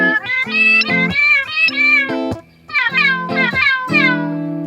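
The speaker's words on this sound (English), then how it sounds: "we have the Meowdulator by Cusack. It's got 3 knobs, meow, meow, and it does exactly what you think it does." A guitar played through a Cusack Meowdulator effects pedal turns each note into a loud, close, cat-like meow, about eight pitched meows in a quick phrase with a brief pause midway and no talking.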